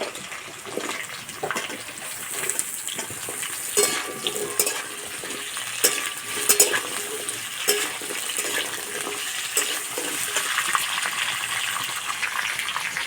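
Vegetables for shukto frying in a pan, potatoes among them, giving a soft continuous sizzle broken by scattered scrapes and clicks of stirring, moderately close and fairly quiet.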